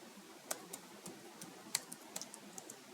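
Code being typed on a computer keyboard, a sparse run of light, close key clicks at an uneven pace over a quiet room background.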